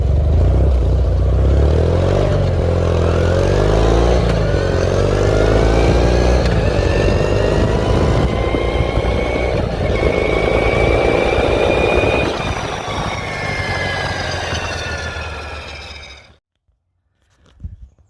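A hot rod race mower, a barn find running on fuel, drives fast with a loud buzzing small engine climbing and falling through revs, close and continuous before cutting off abruptly near the end.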